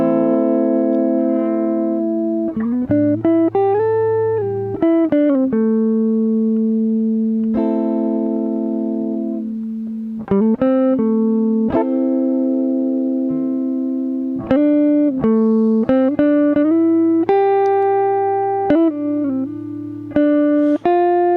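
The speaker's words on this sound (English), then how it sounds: "This is kind of a bluesy, jazzy-ish kind of guitar riff here," Bluesy, jazzy guitar riff sample loop: clean, sustained single notes and bends ring out one after another in a steady melodic phrase, played alone with no talking.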